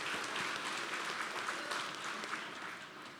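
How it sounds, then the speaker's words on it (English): A crowd claps steadily in a dense, continuous round of applause, heard from a distance and easing off slightly toward the end. "Let's give everybody a big round of applause."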